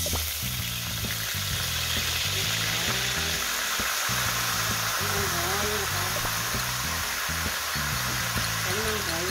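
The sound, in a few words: ingredients frying in hot garlic oil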